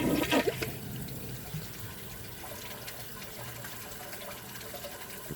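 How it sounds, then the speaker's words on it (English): A 2015 Kohler Cimarron one-piece toilet with a clogged siphon jet flushes with a press and release, giving a brief gush of water at the start and then a faint, steady trickle and refill hiss. "First, I'm going to try a press and release flush."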